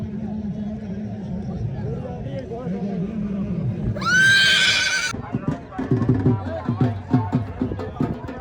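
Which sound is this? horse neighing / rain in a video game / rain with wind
horse neighing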